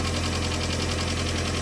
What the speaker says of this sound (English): I think I might even have a vacuum leak because I hear a lot of air.